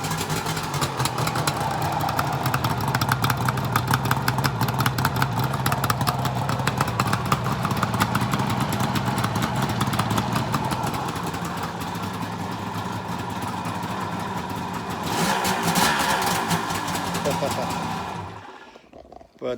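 Three-cylinder two-stroke engine running in a garage, a loud, crackling, steady idle close by with a brief rev near the end before it cuts off, a voice talking over it.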